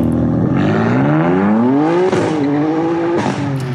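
A BMW M4 engine revs hard and loud nearby, its pitch climbing before two quick gear shifts briefly drop the tone and it pulls up again.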